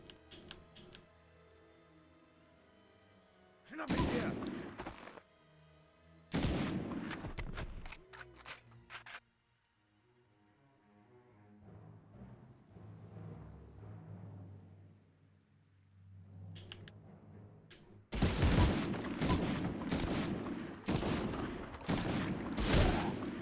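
Bursts of gunfire from the Medal of Honor video game, with several loud volleys and rapid fusillades separated by quieter stretches of ambient game sound and a steady high-pitched tone.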